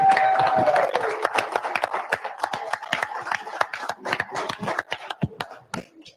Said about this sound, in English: we'd love to give you guys a round of applause